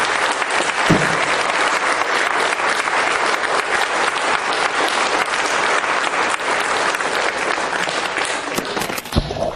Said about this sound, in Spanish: Que esos aplausos se escuchen hasta el universo, hermano.